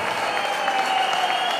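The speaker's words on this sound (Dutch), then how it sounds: "Ik vraag een daverend applaus" Thunderous applause from a packed hall at a carnival prince election in Aalst, a dense, steady roar of clapping hands close by and loud throughout.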